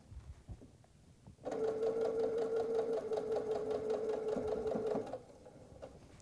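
A sewing machine runs steadily for several seconds, stitching a seam on a quilted nine-patch apron, a close, even mechanical hum with a rapid needle rhythm, preceded and followed by quieter handling sounds.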